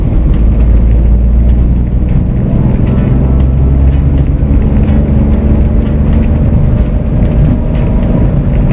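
Manual car engine revving up toward 3000 rpm before a shift into third gear, a loud, steady close-up drone with a low rumble and faint ticking throughout.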